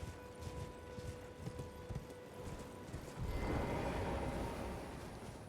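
Horse hooves clip-clop at a steady walking rhythm in the video game Elden Ring, moderately close, then a louder rushing swell of ambient game sound takes over.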